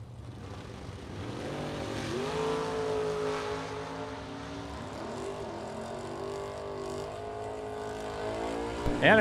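Two Corvettes, one a Corvette Roadster, launch side by side at a bracket nationals drag race, their engines winding up in rising, overlapping howls that sustain at moderate distance before a sharp burst at the end.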